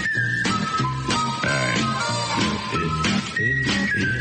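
The Andy Griffith Show theme plays with its whistled melody, a clear bright tune carried over bass and percussion at steady volume with no talk.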